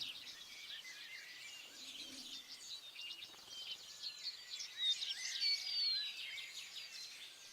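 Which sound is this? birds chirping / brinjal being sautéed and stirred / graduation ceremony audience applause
birds chirping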